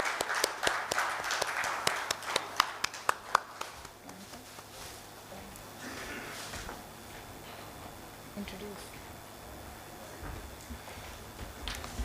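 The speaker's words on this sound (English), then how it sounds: "A big round of applause, ladies and gentlemen." Conference audience in a hotel hall gives a round of applause, a quick run of distinct claps at the start that quickly thins out, leaving faint room noise and scattered sounds.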